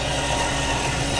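Slide-out motor on a 2016 Winnebago Sun Cruiser motorhome runs with a steady, fairly loud but smooth mechanical whir, heard alone for a brief moment.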